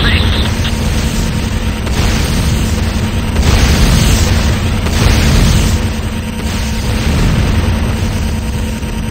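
A building blows up in the video game Renegade, a heavy sustained rumble of explosions and booms filling the scene, loud and continuous, with a game announcer's voice over it.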